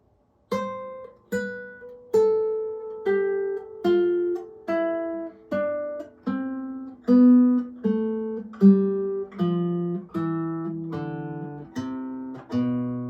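Single guitar notes step downward in an even, moderate rhythm, a dozen or so clear plucked tones each decaying before the next.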